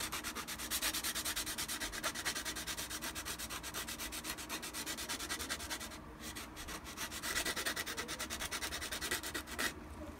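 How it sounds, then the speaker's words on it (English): Sandpaper rubbed over the corners of a Shadow Trooper armor piece, a steady close-up scratchy rasp that runs almost the whole time with only a short dip midway. "Just going to sandpaper that a little bit just to smooth it out a little bit."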